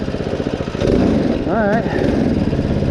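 A homemade mud mower with a Predator engine runs loud and close, its motor droning and briefly revving and warbling in pitch, while someone speaks over it.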